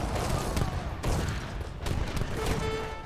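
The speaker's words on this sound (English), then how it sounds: "and then let my cannons take out your cannons." Cannons fire in an Age of Empires battle, with repeated booming blasts and crackling volleys over continuous game noise and a few tonal effects.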